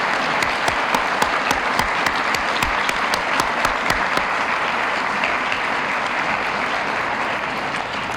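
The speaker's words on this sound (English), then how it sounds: "I think you should applaud all those people." Loud, sustained audience applause at a Citizen of the Year ceremony, a dense roar of many hands with sharp individual claps popping out near the front, continuing for about eight seconds.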